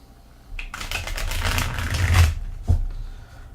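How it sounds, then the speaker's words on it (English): Race for the Galaxy cards being shuffled by hand at close range, a dense riffling rush that swells for about two seconds, then a single sharp tap as the deck settles, with no talk. "There will be quite a bit of shuffling."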